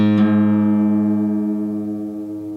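A single plucked, out-of-tune guitar string rings and slowly decays, its tone wavering with slow beating as it sustains alone.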